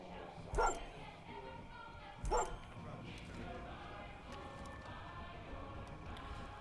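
A dog in Far Cry 5 gives two short, sharp barks a couple of seconds apart, fairly close, over low game ambience with someone talking.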